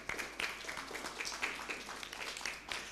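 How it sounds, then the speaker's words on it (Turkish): Soft audience applause for little firefighters, a steady patter of many hands clapping, fairly faint and distant, running continuously for a few seconds. "Onlara da bir alkışlayalım lütfen."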